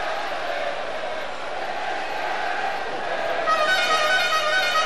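Crowd noise fills an ice hockey arena during a tense 1982/83 play-off game, a steady broad roar throughout that swells slightly louder toward the end.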